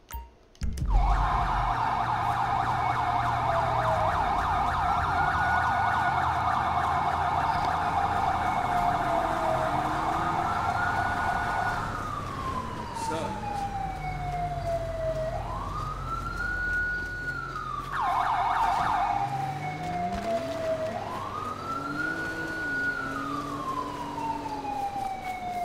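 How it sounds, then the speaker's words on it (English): A wailing police siren from Grand Theft Auto V rises and falls in long sweeps that later speed into quicker swoops, loud and continuous over a low road rumble. "I can hear the siren going off."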